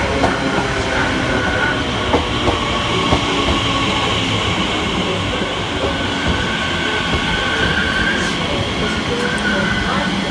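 An Elizabeth Line Class 345 electric train arrives on the Great Eastern Main Line at Ilford, a loud, steady rumble and wheel clatter close by for the whole stretch.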